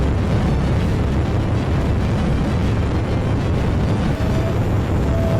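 Continuous heavy rumbling explosions and bursts as a warship's decoys and close-in weapons intercept incoming missiles, loud and dense throughout.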